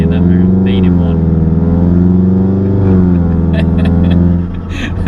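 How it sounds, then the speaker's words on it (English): VW Golf R estate with APR Stage 2 tune, downpipe and resonator delete, engine and exhaust rising and falling through revs with a harmonic drone, loud and close, voices speaking over it near the end. "So that's just the downpipe and a res delete together."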